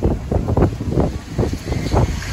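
Strong wind on a bridge in Malta buffets the microphone in rough, irregular gusts, a low rumbling roar that surges and eases continuously throughout.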